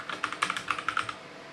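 Quick run of keystrokes on a computer keyboard, about a dozen crisp close clicks in an uneven burst that stops partway through, with no talk.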